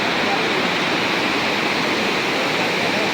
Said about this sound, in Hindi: ये देखो क्या तीव्र वेग है भाई, बहुत ज़्यादा तेज़ बहाव है